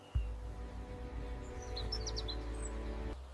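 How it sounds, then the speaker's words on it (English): Small birds chirp in forest trees, a handful of faint, high calls clustered midway over a steady low rumble. "Small birds find refuge in the trees, away from the eyes of predators."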